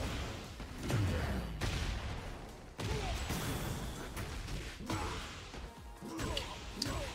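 Gunfire from a gun animation in a Nina Williams combo in Tekken 8, a fighting game, heard as a dense, fairly quiet burst of crashing impacts and shots with whooshes that continues across the whole stretch, with a faint voice now and then.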